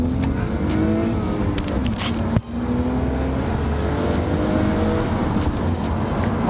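A BMW E46 show car with a new engine and remap revs hard on a dyno, its engine note climbing and dropping in repeated sweeping pulls with a sharp cut midway, loud and close throughout.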